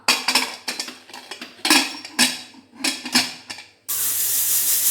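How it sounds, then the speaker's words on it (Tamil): A pressure cooker lid is handled and closed during yam masala cooking, with a run of close metallic clanks and scrapes that ends in a sudden steady hiss. "குக்கரை க்ளோஸ் பண்ணிக்கலாம்."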